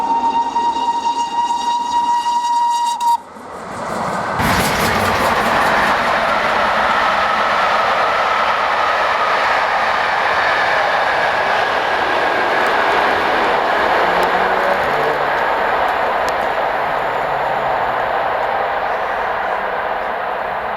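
Clun Castle, a preserved steam locomotive hauling a rail tour over the Settle and Carlisle route, sounds a long whistle, then rushes past with a loud, sustained roar of steam and rolling wheels.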